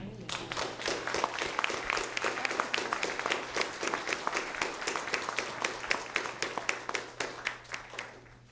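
A lunch-event audience gives Senator Mathias a round of applause: steady, rhythmic communal clapping in even beats over a constant low hum, sustained for several seconds at moderate loudness.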